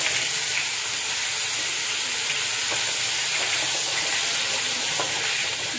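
Food deep-frying in hot oil gives a loud, continuous close-up sizzle, a dense hiss with light crackles that holds steady throughout with no voices over it.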